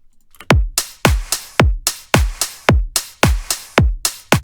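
Basic four-on-the-floor slap house drum loop: steady booming kicks with noisy claps or snares and hi-hats between them, a loud, tight, repeating pattern with no voice.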